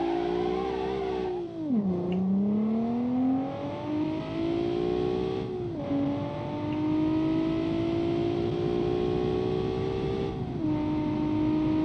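Off-road car engine in a video game revving hard, with pitch sweeping up after each gear drop, three distinct dips and climbs over a steady mechanical whine, no talking.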